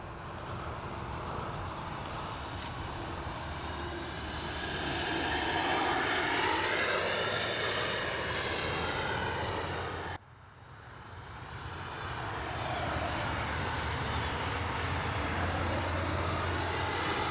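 Turbine whine of a radio-controlled Flyfans Baltic Bees model jet in flight, a loud steady roar that swells and shifts pitch as it passes and maneuvers, briefly cutting out before rising again.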